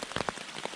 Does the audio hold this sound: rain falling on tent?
yes